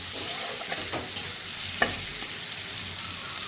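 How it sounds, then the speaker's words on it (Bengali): Paneer coated with turmeric, salt and Kashmiri chilli powder fries in a pan with a continuous close sizzle, punctuated by several soft scrapes and taps of a spatula stirring; no voices. "পনিরগুলোকে আমি হলুদ নুন একটু কাশ্মীরি লঙ্কার গুঁড়ো তো কালারটা যাতে ভালো আসে মিশিয়ে মাখিয়ে আমি ভাজছি"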